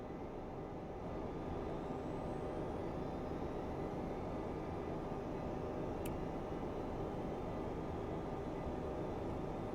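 The jet engine of an Aerobask Eclipse 550 in a flight simulator spools up into a steady, broadband roar that holds loud and constant with no pauses.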